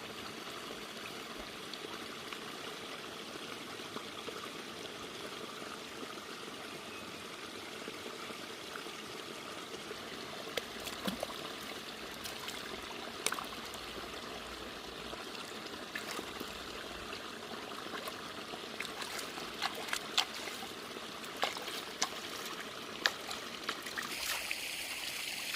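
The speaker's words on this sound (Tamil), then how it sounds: "தண்ணி கட்டினது இந்த வாய்க்காலோட வியூ பாருங்கள்" Water running through an irrigation channel on a turmeric farm, a steady trickling stream with small splashes and gurgles, continuous and close, growing a little busier toward the end.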